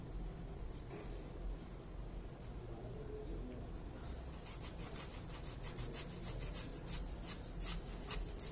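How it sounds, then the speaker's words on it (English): Thin varnish brushed onto a wooden Victorian lady wall clock, giving a steady soft rubbing of close bristle strokes that carries on without pause. "Applying a thin layer of varnish."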